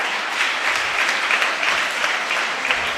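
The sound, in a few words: applause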